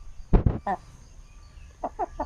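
An RTL Basilan native chicken clucks close by: two loud clucks, a short pause, another, then three quieter clucks in a quick run near the end.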